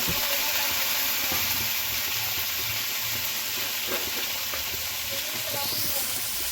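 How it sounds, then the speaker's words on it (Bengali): Vegetables frying together in a pan for chirer polao, a steady close sizzle and hiss that runs without a break, with faint stirring scrapes under it. "সবজিগুলোও দিয়ে দেবো, একসঙ্গে ভেজে নেব।"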